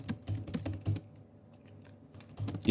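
Quick bursts of typing on a computer keyboard while writing code, several close clicky keystrokes in short clusters separated by brief pauses, with no one speaking.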